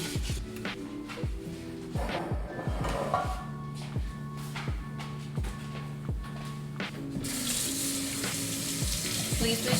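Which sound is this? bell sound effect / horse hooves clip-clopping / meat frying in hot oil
meat frying in hot oil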